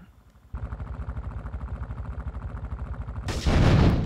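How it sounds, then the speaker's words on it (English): Rapid rhythmic gunfire bursts in the video game Grand Theft Auto III, a fast stuttering string of shots followed by a loud, noisy blast at the end. "I like the sniper rifle."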